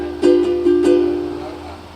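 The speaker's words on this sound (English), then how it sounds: "for a triple strum, since the ukulele is mainly played with our fingers" A ukulele sounds a quick fast triple strum, three or four rapid close strokes on a ringing chord that then fades out.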